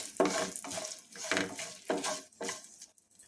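Asafoetida hits hot oil in a pan during the tempering for a beetroot chutney. It gives a close, crackling sizzle in several short bursts, each swelling and fading over a few seconds.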